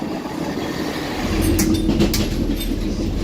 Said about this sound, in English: Do you like the train?